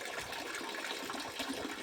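Water gushes steadily into a container to be stored, a continuous rushing, splashing pour heard close up with no pauses.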